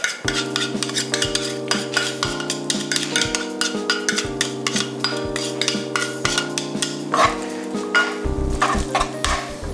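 A utensil scrapes and clinks steadily against a pan, stirring with a quick repeated rhythm, close up and with no talking.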